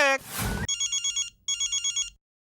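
A telephone rings in two bursts of rapid electronic trills, loud and close, following a short voice and whoosh at the start.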